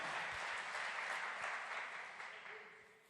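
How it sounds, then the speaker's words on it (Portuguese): A church congregation applauding steadily, dense clapping that stays loud and then gradually tapers off toward the end. "Aplaude, glorifique o nome de Jesus."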